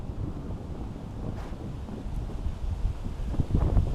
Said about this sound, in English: wind is starting to pick up